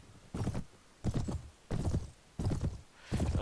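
Horses in the medieval game Mount & Blade clop along in five evenly spaced bursts of hoofbeats, close and clear, with no voices.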